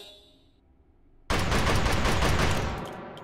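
Loud, sustained burst of rapid gunfire from a powerful, hard-kicking gun in the VR shooting game Hot Dogs, Horseshoes & Hand Grenades, erupting abruptly after a quiet pause and continuing densely for about two seconds before tailing off.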